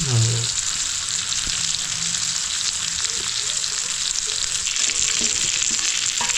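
Croaker (dhoma) fish pieces fry in hot oil in a pan, a steady dense sizzle running unbroken and fairly loud throughout, with no talking.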